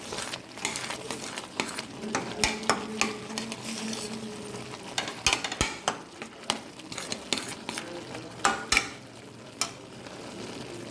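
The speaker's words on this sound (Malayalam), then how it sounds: "ഒന്നിളക്കി ഈ റവ ഈ ഗോതമ്പ് നുറുക്കിട്ട് തിളച്ച് കഴിയുമ്പോൾ നമ്മുടെ ഓൾസ് ചേർത്ത് കൊടുക്കും" A spoon stirs semolina and broken wheat as they cook and bubble in a pot, giving repeated scraping strokes and clinks over a soft sizzle, close and fairly loud, with no talking.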